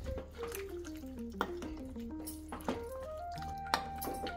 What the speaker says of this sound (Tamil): இன்னும் கொஞ்சம் ஜலம் விட்டுக்கலாம்.